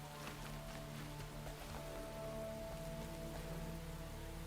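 Rain falling in the video game Enshrouded: a soft, steady patter of drops on surfaces, faint and even throughout with a few brighter individual taps, and no voices.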